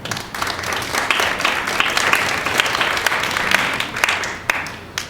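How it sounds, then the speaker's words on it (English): Audience applause at a live talk show, dense steady clapping from a crowd lasting several seconds, loud and close with scattered sharper claps. "So round of applause for World Viral too"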